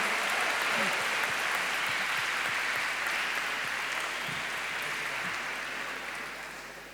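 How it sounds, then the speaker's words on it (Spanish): Applause from an audience at a talk in Los Realejos, a dense, steady wash of many hands clapping that holds evenly and fades toward the end, with faint voices underneath. "Un aplauso para él."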